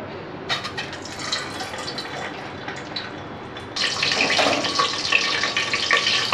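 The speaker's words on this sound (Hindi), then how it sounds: "तेल हमारा जो है वो गर्म हो गया है तो अब हम एक एक करके इसमें अंडा डालेंगे।" Whole eggs dropped one by one into hot oil for egg curry, the frying swelling into a loud, steady crackling sizzle close by.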